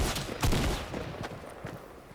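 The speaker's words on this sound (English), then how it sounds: "I'm just going to shoot him." Gunfire in a Fortnite solo match, a quick cluster of sharp close shots near the start, then scattered fainter cracks fading off, with no talking.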